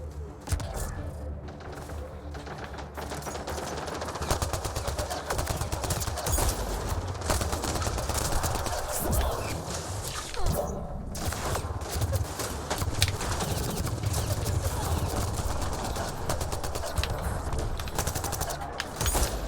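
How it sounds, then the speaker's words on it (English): Heavy weapons fire rattles continuously through a battle in Mass Effect Andromeda, dense and sustained at a distance, with clattering bursts layered over a steady roar of combat noise. "I detect heavy weapons fire nearby"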